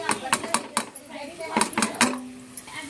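Mango pieces tipped into a pan of fried onions, heard as clinks and scrapes of utensils against the pan in quick clusters, close and moderately loud, while someone talks over them.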